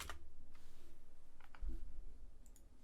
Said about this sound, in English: we're gonna do some keyboard typing